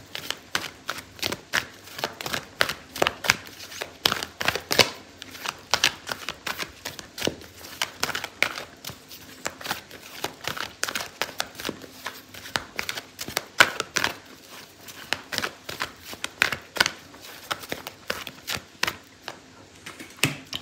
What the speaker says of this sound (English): I'm going to pull out a card for your advice